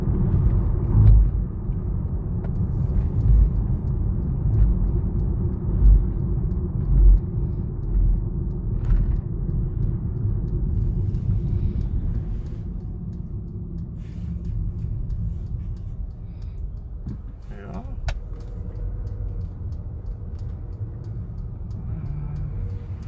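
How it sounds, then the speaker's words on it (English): A 2023 Mercedes-Benz A200 with a 120 kW engine cruising in comfort mode, giving a steady low engine and road rumble from inside the cabin with no talk. "So I'm currently driving in comfort mode"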